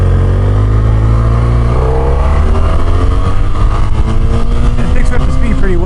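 A 2007–2012 BMW F800ST motorcycle engine accelerates hard, its steady loud drone climbing smoothly in pitch as the revs build over about six seconds.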